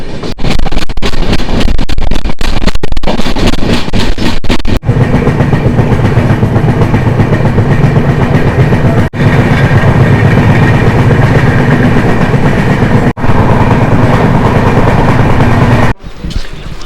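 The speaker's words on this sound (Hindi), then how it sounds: "चगिंग का साउंड तो सुनिए क्या सही आ रहा है।" A Mysore to Jaipur superfast express train rolls along the rails in a sleeper coach, a loud, continuous rumble with rhythmic clickety-clack beats and brief sharp dropouts, heard from up close.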